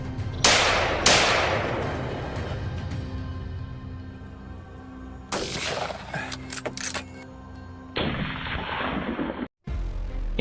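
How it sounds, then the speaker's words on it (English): A farmer's gunshot aimed at wild hogs on an Arizona farm: two sharp, loud reports close together at the start, each ringing off into a long decay, followed by quieter clanks and shuffling. "I shot."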